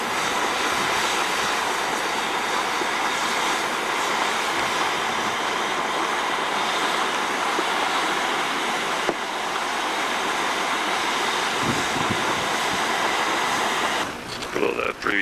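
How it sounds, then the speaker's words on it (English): Steady, loud hissing roar of steam venting from a geyser vent on a volcanic geyser plateau in Montana or Wyoming, continuous and broadband throughout, with a brief disturbance near the end. "It's just steaming water and you can hear the steam."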